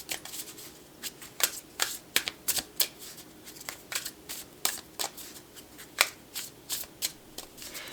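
Woodland Wardens tarot cards handled and shuffled up close, giving crisp, rapid papery snaps and flicks in irregular bursts with no talking.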